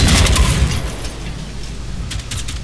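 Gunfire in the video game Generation Zero, a loud close burst of rapid shots at the start that fades, followed by a few fainter cracks.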